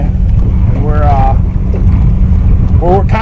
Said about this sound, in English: it's windy as hell out here today